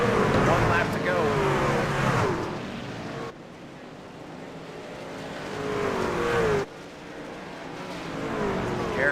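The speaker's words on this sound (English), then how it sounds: "You've got cars or trucks battling back there, crashing." Racing trucks lap the Knoxville dirt track in a racing video game, engines roaring and revving loud and close as they pass in waves with sudden cuts between them. A voice talks over the engines.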